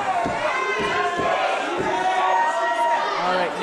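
A crowd at an ECCW championship wrestling match cheers and shouts, with loud rising yells and a few sharp bursts of noise over about four seconds, and voices mixed in.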